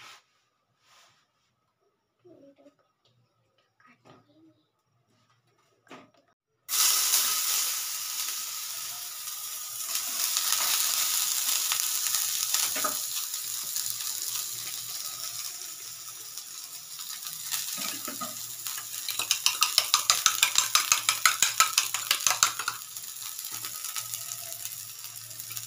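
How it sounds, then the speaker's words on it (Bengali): Onions sizzle in a hot pan after a quiet start, a steady crackling fry that kicks in abruptly and continues with rising and falling intensity, with no talking. "পেঁয়াজটা হালকা ভাজা ভাজা হয়ে গেলে ভালো লাগবে।"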